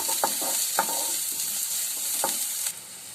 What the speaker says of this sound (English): we'll be adding some chopped the sliced onion, and then just saute it